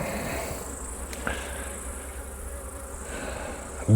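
Honeybees buzz steadily around an open hive during autumn nest preparation for wintering bees, a dense continuous hum with a few individual bees droning close past the microphone and a brief knock near the end.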